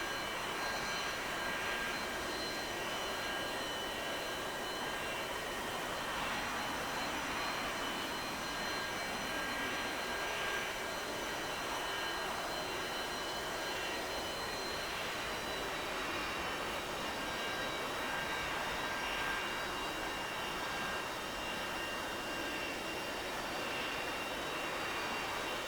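A steady, distant-sounding roar of a jet engine from an A-4 on the runway preparing for takeoff in DCS World, a constant faint drone with no talk over it for nearly twenty-six seconds.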